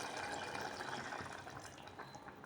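Water poured from a glass onto soaked rice in a pot for Kathiyawadi-style veg yakhni pulao, a steady, soft, close splashing gush that runs continuously and slightly fades toward the end, with no voices.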